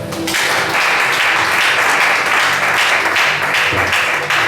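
A church congregation claps and cheers together during a service, dense sustained applause filling the whole stretch at steady loudness with a few faint voices mixed in.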